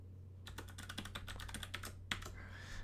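Rapid keystrokes on a computer keyboard as a password is entered, a steady run of light clicks with a brief pause and one sharper tap near the end, heard close against a faint electrical hum.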